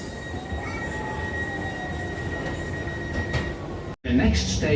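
A metro train on the Tyne and Wear network rolls along with a loud steady rumble and faint wheel squeal, then a brief drop before the noise surges again.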